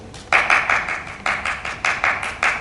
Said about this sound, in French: Tu veux que j'applaudisse? Alors j'applaudis.